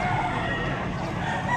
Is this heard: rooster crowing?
yes